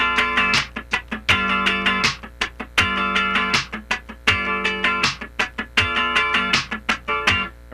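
Funk rhythm guitar plays crisp, percussive strums in bursts of four quick sixteenth-note attacks on a held chord, repeated in a steady groove at close range with no talking.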